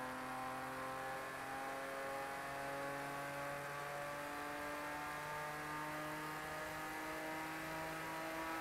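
A race car in a racing video game accelerates with a steady, droning engine whine that climbs gradually in pitch, faint and continuous, with no talk.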